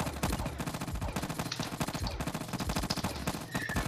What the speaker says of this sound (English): Machine gun, I'm buying another machine gun